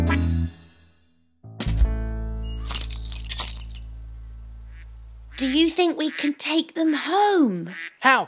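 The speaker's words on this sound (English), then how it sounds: "he led the others with a quack, quack, quack" A cartoon duck quacks in a 3D animated nursery rhyme, a quick run of loud, close quacks rising and falling, following a brief musical passage with sustained tones.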